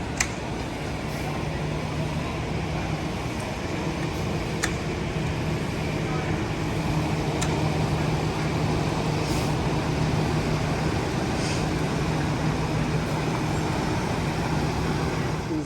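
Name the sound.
motorhome being driven and turned around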